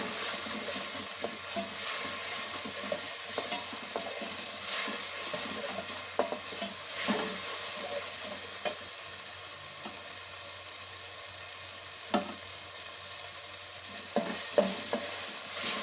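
Chicken frying in a pan, stirred steadily with a continuous sizzle and occasional scrapes and clinks of the utensil against the pan, close and with no talk.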